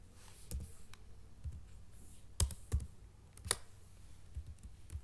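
Keys on a computer keyboard clatter quietly as someone types into an Excel sheet, with scattered single taps and a few sharper, louder clicks spaced irregularly over a faint background hiss.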